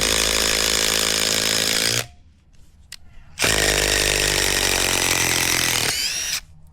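Cordless impact drivers, a Makita DTD173 and a Dnipro-M DTD-201BC, drive a screw in a timed test: two loud sustained bursts of high rattling hammering, the first about two seconds long and the second about three, with a short lull between.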